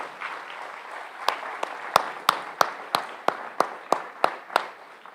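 Applause for student athletes at a high school senior awards night: sparse, scattered claps ring out in a roughly steady rhythm, a handful of individual hand claps over a soft murmur of the room.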